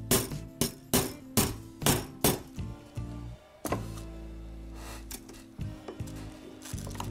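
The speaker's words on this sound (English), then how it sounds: "Then we can hammer it home." Hammer tapping a new bushing into a clock movement during clock repair: a run of sharp, evenly spaced strikes up close, then a pause and a few lighter taps, with no talking.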